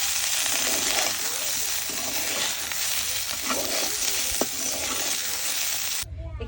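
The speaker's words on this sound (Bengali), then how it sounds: "এখানে অনেকটা পেঁয়াজ রসুন আর মরিচ এগুলো একসঙ্গে আমি হালকা করে ভেজে নিব" Onion, garlic and chilli fry lightly together in a pan with a steady, close sizzle, broken by soft scraping and stirring clatters.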